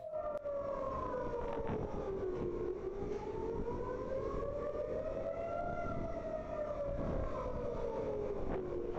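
Air raid sirens in Israel wail continuously, their pitch slowly rising and falling in long sweeps, steady and moderately distant.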